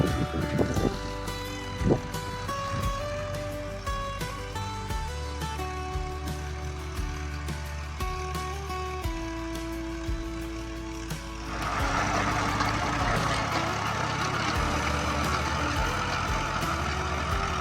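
A tractor earthing up soil along ginger rows drones steadily with a low engine hum, then turns rougher and louder partway through as the implement works the ground.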